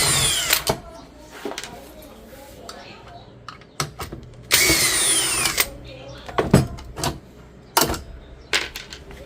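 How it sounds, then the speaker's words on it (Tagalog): Power screwdriver or drill whirring in repeated short bursts while screws come out of the casing of a PIXPRO welding machine being opened for repair, close and fairly loud, with clicks and handling noise between runs and speech in the background. "So, tanggalin muna natin itong mga screw."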